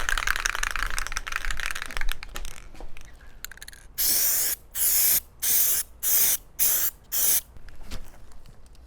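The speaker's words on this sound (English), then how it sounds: "we've got a spray on Rust-Oleum clear" A Rust-Oleum clear coat is sprayed from an aerosol can, a soft hiss at first, then a series of loud, distinct bursts of spray separated by short pauses, close to the microphone.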